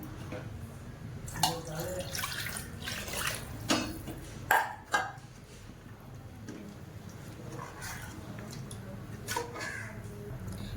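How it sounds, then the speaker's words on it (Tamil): Water is poured into a pot of mutton nonbu kanji porridge, with intermittent splashing and pouring bursts, a few clinks of the pot and a low background hum. "திரும்ப ஒரு முக்கால் லிட்ரு தண்ணி வந்து சேர்த்துக்கிறேன்"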